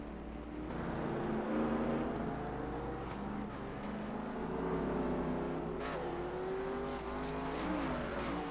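A race car engine roars and accelerates hard on the Mid-Ohio circuit during a national series race, pitch climbing through gears in a sustained, fairly distant howl with a brief shift near the end.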